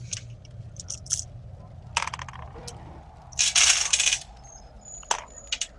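Plastic d20 dice roll and clatter onto a hard surface in a few separate rattling bursts, one longer tumble in the middle, over a low background hum.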